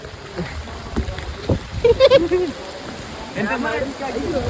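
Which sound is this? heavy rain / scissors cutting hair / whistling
heavy rain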